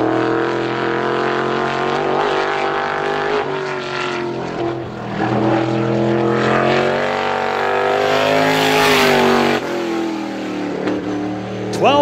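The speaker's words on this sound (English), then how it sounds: "Car number 0 on the Speedway, driven by Richard Humphrey." A super late model race car laps a speedway during time trials, its engine droning loud and close with pitch rising and falling through the turns, then a sharp high whine as it revs near the end.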